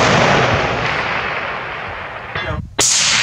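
Gunshots at an outdoor shooting range: a sharp, loud report at the start that rings out and fades, then a second close, cracking shot near the end.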